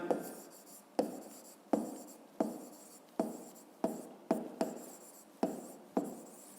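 Pen writing on paper during a physics exercise, a string of short scratchy strokes in an irregular rhythm, close and quiet with no talking.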